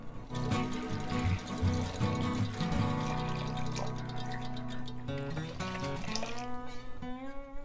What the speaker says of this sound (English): Now add 10 cups of water.